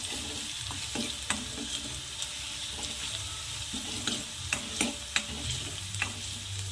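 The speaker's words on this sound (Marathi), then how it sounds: "कांदा पकलेला आहे आता जाड सरस बारीक करून लसूण ॲड करायचं आहे मिक्स करायचं" Garlic is stirred into onions frying in a pan for a ridge gourd bhaji, with a soft sizzle underneath and a series of scraping strokes and sharp spoon clicks against the pan.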